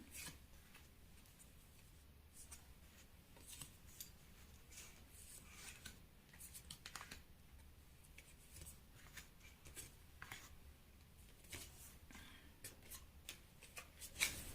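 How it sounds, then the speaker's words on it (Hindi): Tarot cards being shuffled and drawn from the deck during a reading, a steady stream of soft, close riffling and sliding card sounds with light taps, and no one speaking. "पहले फटाफट हम कार्ड निकाल लेते हैं"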